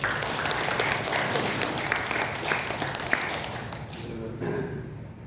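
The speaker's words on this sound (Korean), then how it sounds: "박수로 좀 격려하시죠" A church congregation at a Sunday service claps in encouragement, a steady crowd applause that thins toward the end as a voice begins speaking over it.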